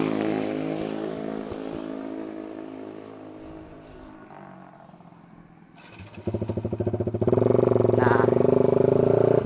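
A motorcycle fitted with a CLD Monster Race exhaust idles with a rough burble, then is revved sharply into a loud, rapid, raspy roar that holds near the end. A single short spoken word comes early.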